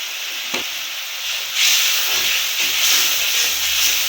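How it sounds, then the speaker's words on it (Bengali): Spices and chili frying in oil in a pan, a steady loud hissing sizzle that swells partway through, close and continuous with no talk. "এখন ভালোভাবে মশলাটা কষিয়ে নেব তেল ছাড়া পর্যন্ত মশলা"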